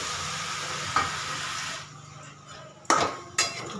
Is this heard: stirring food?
yes